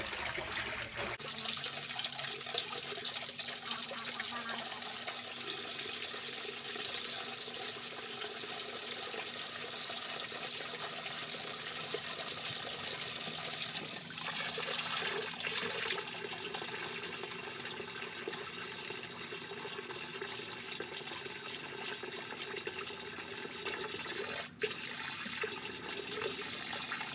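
Water trickles and splashes steadily into a bag of ghost shrimp during a tank setup. The pouring stays constant and fairly faint for the whole stretch, and no one speaks.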